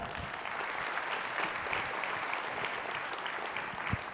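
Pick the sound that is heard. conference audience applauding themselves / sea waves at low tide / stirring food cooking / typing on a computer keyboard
conference audience applauding themselves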